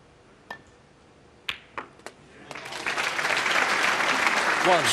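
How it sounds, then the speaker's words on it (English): At a snooker match, a few scattered claps build into a swelling round of crowd applause in the arena, steady and full by the end, with a commentator's voice underneath. "The crowd applaud, and rightly so."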